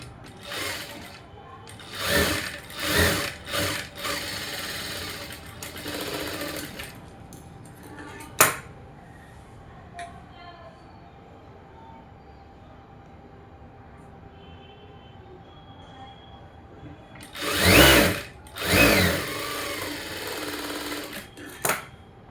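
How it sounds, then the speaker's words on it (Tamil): A sewing machine top-stitches the lining of a blouse in several short bursts of rapid mechanical whirring, with a long, quiet stretch of faint handling noise between the early runs and a final pair of stitching bursts. "இப்போ இது மேலே படிமான தையல்."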